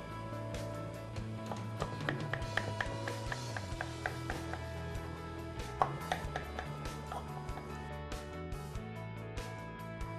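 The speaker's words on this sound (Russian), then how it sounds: "Нарежьте на порции этот пирог сразу керамическим ножиком" A ceramic knife cuts a pie into portions right in its baking tin, giving repeated soft taps and scrapes against the tin at moderate volume, with steady background noise and no talking.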